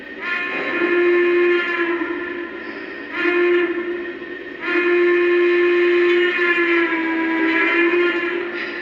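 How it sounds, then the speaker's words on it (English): Lionel Vision Line model locomotive sounding its second whistle, a C&O-style hooter: three steady, mellow blasts, two short and a longer final one, loud and close with no talking. "That's more of a C&O hooter there."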